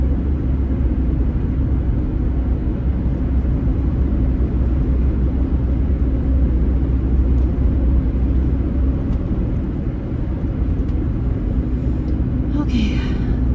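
A car drives along a road, giving a steady, continuous low engine and road rumble with tire noise that holds evenly throughout, with no pauses or breaks.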